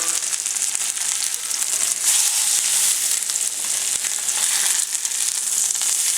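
Cajun-style stuffed chicken breasts fry loudly in a pan, a dense, continuous sizzling hiss that swells and eases slightly, with a faint knock partway through and no talking.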